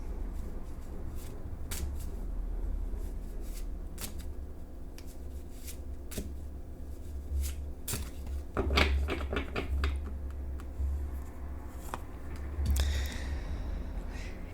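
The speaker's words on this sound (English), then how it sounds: "So I shuffle until Spirit tells me to stop." A deck of tarot cards is shuffled by hand for a long stretch, steady soft riffling with sharp snaps and flutters, close and alone with no talk.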